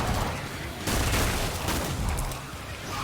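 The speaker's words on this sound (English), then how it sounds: "We got a few more rounds with our assault rifle. So we use that." Sustained assault rifle fire in Killing Floor 2's Christmas event, a dense near burst of shots with a short gap near the start, then continuous rattling and booming through the rest.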